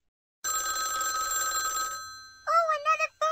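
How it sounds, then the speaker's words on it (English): A telephone in a Sesame Street video game rings with a loud electronic bell trill for about a second and a half, followed by a cartoonish voice speaking close up. "Oh, another phone call."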